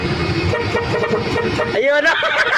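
A car horn honks on a street, a sustained tonal blare rising out of traffic noise and crowd chatter, with people talking throughout.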